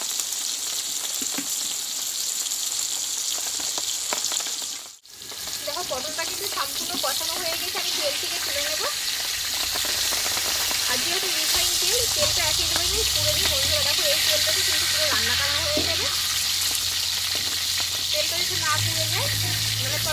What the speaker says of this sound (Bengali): ধীরে ধীরে পটলটা দেখো কি সুন্দর কষানো হয়ে গেছে আরও আমি কিছু একটু কষিয়ে নেবো